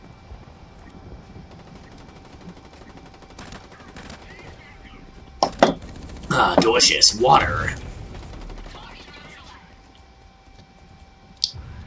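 Gunfire from the online shooter Blacklight Retribution, a dense burst of several rapid shots around the middle, with someone talking over quieter game sounds before and after.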